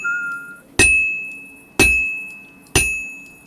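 Hammer strikes on an anvil while forging an axe in Kingdom Come Deliverance 2, three sharp ringing metallic clangs about a second apart, each decaying with a bright lingering tone.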